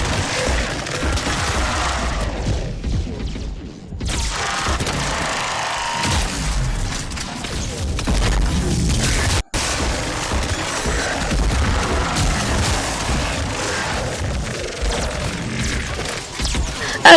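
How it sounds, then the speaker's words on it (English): An M27 Scimitar shotgun fires repeatedly in Mass Effect 3 combat, heavy blasts and impacts over a dense layer of battle noise, loud and steady with brief gaps. "M27 Scimitar is quite a short range shotgun, but longer ranges than most shotguns"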